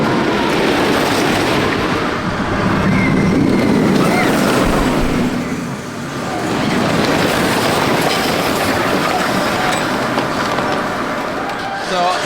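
A roller coaster train at Coney Island's Luna Park rumbles and clatters steadily past close overhead, near the brakes, a continuous rolling roar with rattling wheels for several seconds.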